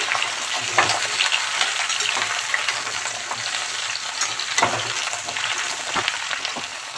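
Ridge gourd goes into potatoes already fried red, setting off a dense, continuous crackling sizzle. Scattered stirring scrapes run through it for several seconds, close and fairly loud, with no talking.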